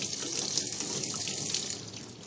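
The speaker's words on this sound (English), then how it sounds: "So I'm going to flush test cock number 1" Water flushing out of test cock number 1 on a backflow preventer, a steady continuous hiss of spraying water throughout, fairly loud and close, with no talking.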